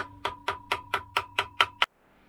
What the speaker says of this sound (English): I am hammering a little bit carefully with a very thin, small screwdriver